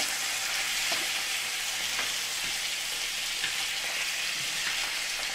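Beef bavette steak sears in a hot pan with a continuous, close crackling sizzle that holds evenly for a few seconds, with faint stirring or basting movement and no voices.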